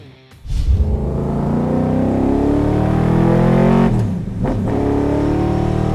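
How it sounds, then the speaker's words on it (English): A 500-plus horsepower race car with a 327 small block Chevy V8 and T10 gearbox fires up into a loud, deep, steady rumble, dips briefly as the throttle eases, then settles back to a strong idle. "500 plus horsepower, 327 small block Chevy, T10 gearbox."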